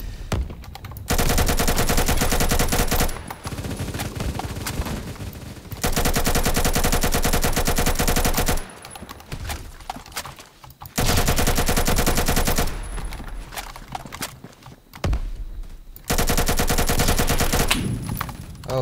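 Automatic fire from an AK105 rifle converted to 5.56 in the game Phantom Forces, heard as about five long, loud, rapid bursts with short pauses between them.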